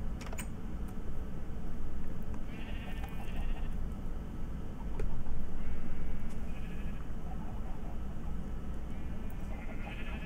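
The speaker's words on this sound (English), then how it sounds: "A little tired of the sheep getting out." Sheep bleat in the Minecraft video game, several short wavering calls spread across the stretch over a dense background bed of game noise and rapid clicking like keyboard typing; no speech.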